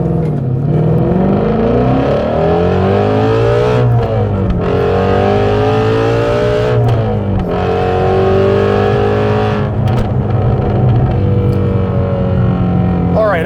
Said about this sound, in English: This just has a bit more of a higher pitch racing type of exhaust note